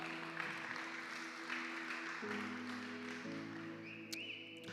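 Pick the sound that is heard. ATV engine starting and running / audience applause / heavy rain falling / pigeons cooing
audience applause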